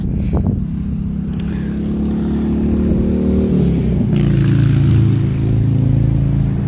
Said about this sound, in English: incredibly loud motorcycle